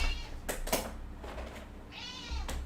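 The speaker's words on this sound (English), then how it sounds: "I'm gonna give the kitty cat some greenies so she'll be quiet." Pet cat meowing indoors, a couple of sharp clicks and then a drawn-out rising and falling meow near the mic, with no talking.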